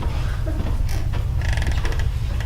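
A door creaks while opening and closing on its own, giving a brief scraping groan and a rattling creak over a loud low rumble of background noise.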